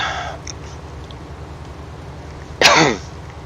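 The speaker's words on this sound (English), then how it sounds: "sorry about this cough." A single sharp cough bursts out close to the microphone, brief and loud against a quiet, low outdoor background.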